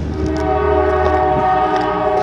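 A noisy train in a city sounds a loud, steady horn that holds for the whole stretch over a rumbling background, close and dominant, with no talking.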